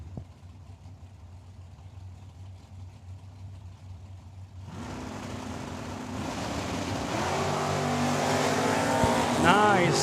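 Drag racing cars launching side by side at Tucson Dragway, engines rising from a quieter idle into a loud, building roar with tire noise, while a track announcer talks over the PA.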